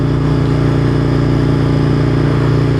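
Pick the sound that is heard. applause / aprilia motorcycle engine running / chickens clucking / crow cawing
aprilia motorcycle engine running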